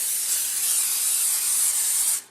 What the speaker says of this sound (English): Then we need to lightly grease a baking dish.